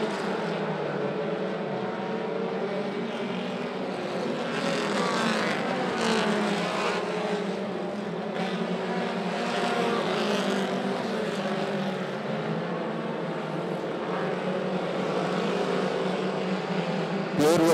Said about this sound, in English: Good racing going on back through the field. Lots of cars side by side.